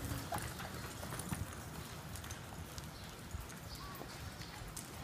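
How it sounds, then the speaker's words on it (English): Horses jogging on a ranch during a riding class, hooves clip-clopping faintly and steadily at a distance under a low background hum. "Jog, please, jog your horses."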